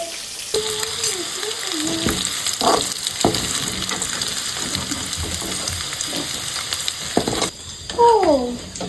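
Small onions and curry leaves frying in hot oil, a dense continuous sizzle with stirring clatter up close, while faint voices talk briefly over it.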